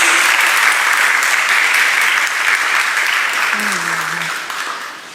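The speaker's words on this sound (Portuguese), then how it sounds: "Uma salva de palmas." Audience applause at a graduation ceremony: steady, dense clapping that fills the room and tapers slightly toward the end, with a brief voice heard faintly underneath.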